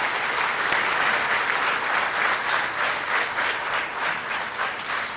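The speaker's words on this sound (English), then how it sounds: "give a round of applause to your teachers and professors of this university" A university convocation audience, standing, applauds their teachers and professors, a continuous, fairly loud crowd clapping that holds steady for several seconds without speech.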